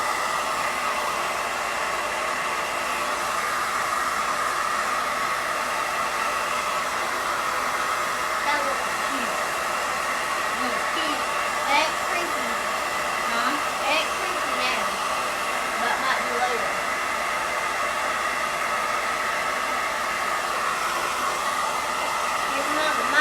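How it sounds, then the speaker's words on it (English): A handheld blow dryer runs steadily on wet paint, a constant close whooshing roar with slight shifts as it is moved over the surface, and no talking over it. "Y'all know I like my blow dryer."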